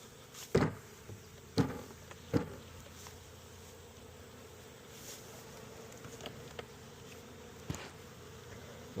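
Honey bees buzzing softly in an open hive during a mite check, a faint steady hum broken by a few sharp knocks and taps from handling the frames.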